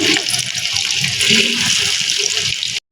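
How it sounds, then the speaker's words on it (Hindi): Raw minced-meat kebabs, hotel style, fry in hot oil, producing a loud, dense, continuous hiss of sizzling close by that cuts off abruptly just before the end. "अब फ्राई करते हैं कबाब। ऑयल गर्म हो चुका है।"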